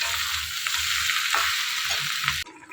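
Green jackfruit sizzling in hot oil with onion and garlic, a steady loud frying hiss broken by soft stirring scrapes, close up and alone before cutting off abruptly.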